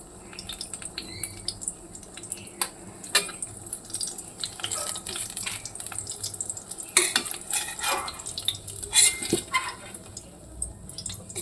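Eggplant frying in a pan and being turned, a soft sizzle beneath clattering utensils and metal scrapes against cookware, close and fairly quiet, with no one talking.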